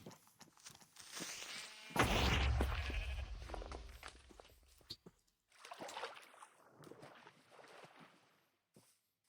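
Sheep bleating in Minecraft, one sharp loud bleat that trails off, followed by quieter scattered game sounds and faint bleats.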